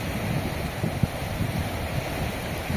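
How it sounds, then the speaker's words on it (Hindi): A river with clear water flows gently in the hills of Sirmaur, Himachal, as a steady, soft babbling with a light breeze, continuous and fairly close, no voices. "नदी की कोमल कलकल ध्वनि सुनाई दे रही है।"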